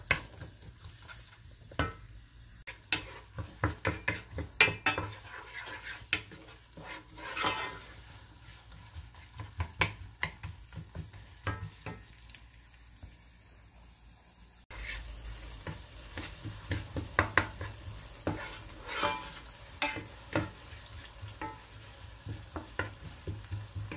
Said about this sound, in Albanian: Tash hedhim qepën. Qepën e madhe.